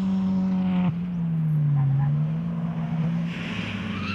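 BMW 325i Club Sport Trophy race cars race, giving a loud, steady engine drone that dips briefly in pitch before holding on, with faint higher noise near the end.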